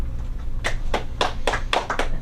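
An audience at a comedy show claps in scattered, uneven bursts, a handful of sharp hand claps over a low, steady room hum.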